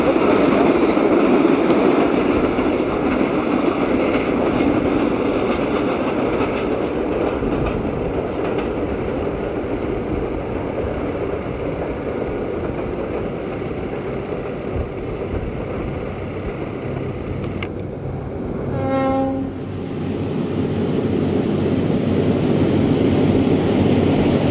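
A 1960s Rocky Mountain Rocket passenger train rolls steadily across a bridge, a continuous loud rumble of wheels and cars with a brief pulsing horn-like tone near the end.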